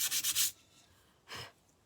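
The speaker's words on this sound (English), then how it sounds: "I'm going to go ahead and just sand that down." Short scratchy strokes of sandpaper over a small painted spot in terracotta paint, a quick rapid burst followed by one single stroke, close and fairly quiet, with no talk.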